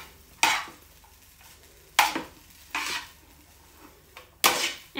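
Pasta being stirred and tossed in a pan to coat it with garlic and a little fat for carbonara, with four or five quick scraping, sizzling swishes at irregular intervals, close and fairly loud, with quiet pauses between and no talking.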